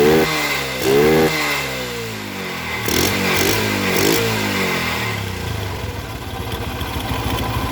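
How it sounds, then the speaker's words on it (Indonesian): Yamaha Jupiter MX motorcycle with its TPS sensor socket unplugged, revved up close: the engine climbs and falls in several loud throttle blips, then settles into a steady idle. "Apakah dilepas ini motornya error atau bermasalah? Kita coba saja, kita geber gasnya."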